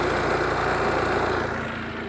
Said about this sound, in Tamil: இன்ஜின் நாய்ஸ் சுத்தமாக நல்லாயிருக்கு, சூப்பராக இருக்குது.